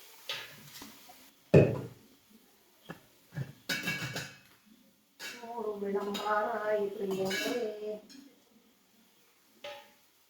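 Dishes and pots clatter and clink in short bursts in a home kitchen, interspersed with quiet pauses and a stretch of voice talking.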